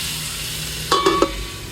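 Pork sizzles steadily in a pan for chop suey, a soft, even hiss with a few short clinks of a utensil stirring near the end, close and alone.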